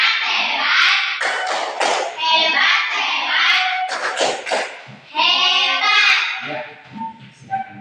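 Students give a 'tepuk hebat' clapping cheer for a student group in a classroom, short rhythmic claps mixed with loud group chanting voices, close by.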